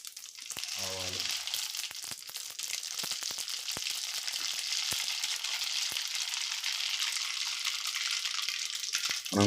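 Cumin and mustard seeds sizzling in hot oil, a steady, close, dense hiss with sharp crackles and pops scattered through it, heard alone without speech.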